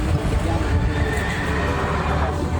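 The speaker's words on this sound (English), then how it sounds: "I'm on a horse in Turkmenistan." A horse in Turkmenistan lets out a loud, close whinny over a dense rush of background noise, with hoof clip-clops faintly underneath.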